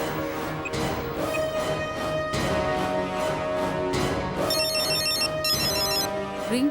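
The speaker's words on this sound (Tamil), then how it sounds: "ஃபோன் அடிக்குது" Short electronic ringtone bursts from a phone chime near the end, over a loud music-filled scene with heavy thumps.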